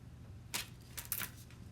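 A chalk couture stencil being peeled up from a surface, with a few faint crackling peels in quick short bursts, quiet and close, with no voices.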